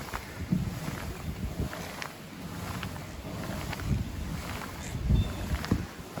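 A Jackson Cruise FD pedal drive kayak moves steadily through water, with a continuous wash and splashing around the hull, some wind buffeting the microphone and a few louder sloshes, no talking.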